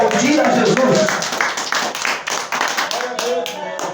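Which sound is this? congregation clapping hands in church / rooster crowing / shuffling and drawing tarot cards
congregation clapping hands in church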